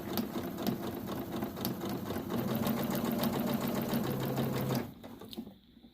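A sewing machine running a corner seam, a close, steady mechanical hum with fast rhythmic stitching clatter that holds for several seconds, then stops abruptly.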